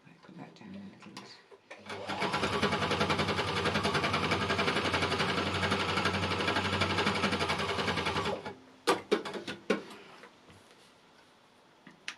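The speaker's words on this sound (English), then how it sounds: "is how the embellisher just meshes everything together" An embellisher needle-punching machine runs over a small piece of curtain interlining, a steady dense mechanical whirr with rapid ticking that holds for about six seconds, then stops, followed by brief clicks and handling noises.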